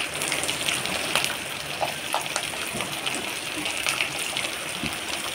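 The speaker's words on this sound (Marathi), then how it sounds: "कांदा आणि मिरची चांगलं सोनेरी रंग येईपर्यंत भाजून घ्यायचं" Onion and chili fry in a pan with roasted peanuts while kande pohe is being made, giving a steady, close, crackling sizzle with scattered pops and no talking.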